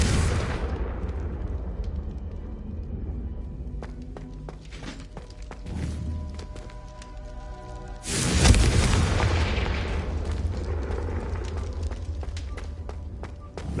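A Confringo fire-blast spell in a Harry Potter video game erupts in a loud, deep boom that rumbles and fades, then a second heavy blast hits midway and rolls on in a long roaring decay.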